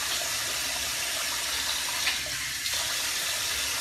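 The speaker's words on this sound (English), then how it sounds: "run the water through it." Tap water runs steadily from a faucet at home, a continuous close hiss of flowing water with only slight shifts in the stream and no talking.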